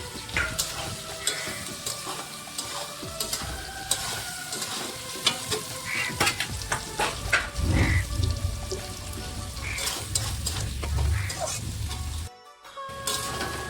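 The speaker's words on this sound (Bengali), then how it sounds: "আমি এখন রসুন পেঁয়াজটা ভালো করে ফ্রাই করে নেব" Garlic and onion fry in a pan with a lively crackling sizzle, punctuated by repeated spatula scrapes and clatters as they are stirred, ending with a brief silence; no voices.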